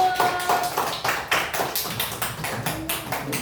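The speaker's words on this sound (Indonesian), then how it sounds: "kasih tepuk tangan buat kelompok 1" A classroom group claps for a presenting student team, a short run of quick, uneven handclaps from a small group nearby, with no talking over it.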